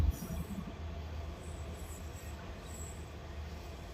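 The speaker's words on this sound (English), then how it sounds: "That's a really loud train and a long one." A long, loud train rolls past a road underpass in Hawkins County, its steady rumble and clatter filling the whole stretch with high wheel squeal on top and no talk.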